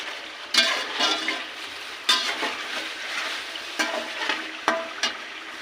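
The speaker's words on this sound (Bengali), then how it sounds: "ভালো করে নেড়ে নেব দেব চিকেন দেওয়া হলো লবণ পরিমাণ মতো" Chicken with salt is stirred into spiced oil in a pan for chicken biryani, with a continuous sizzle broken by several sharp scrapes and knocks of the spoon, close and fairly loud.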